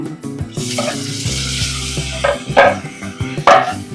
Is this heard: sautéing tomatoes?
yes